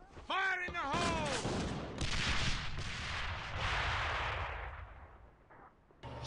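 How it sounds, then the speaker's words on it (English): A shouted voice opens an outdoor airsoft match, then a loud explosive boom from a grenade bursts nearby, its noisy blast rolling on and fading over several seconds. "Fire in the hole!"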